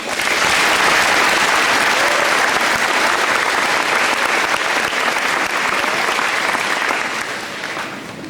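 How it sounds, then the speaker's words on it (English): Audience applause at a Pine City High School graduation ceremony, a long sustained roar of many hands clapping in a large hall, steady and loud before easing off at the end. "Would you please hold your applause until all of the graduates have received their diplomas?"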